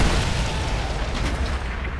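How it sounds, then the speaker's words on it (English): Bomb explosion in the video game Ghost Recon Future Soldier, a sustained, loud, rumbling blast with dense low boom and noisy wash running through the whole stretch, no voices. "obviously it's about to explode"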